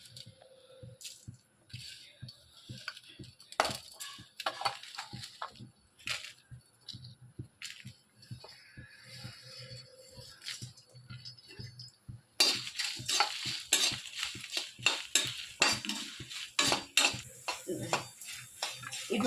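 Coriander seeds and dried red chilies roasting and being stirred in a kadai, with repeated rattling, scraping strokes up close, a brighter sizzling texture building in the second half.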